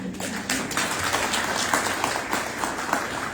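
Audience applause for the mayor at an I-71 presentation, a steady crowd clapping of moderate loudness lasting throughout with faint voices mixed beneath.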